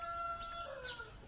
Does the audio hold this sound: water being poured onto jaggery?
no